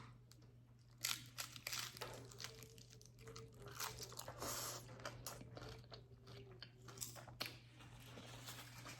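Tacos being bitten and chewed close up, with repeated crunchy bites and wet mastication at a steady, irregular rhythm over a constant low hum, without any talk.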